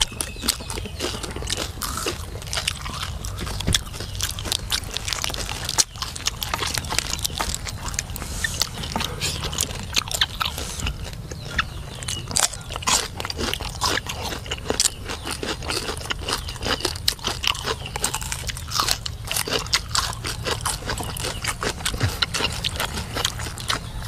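Crispy skin of a Thai roast suckling pig being bitten and chewed close up, a dense run of crackly crunches and mouth sounds continuing steadily with no talk over it.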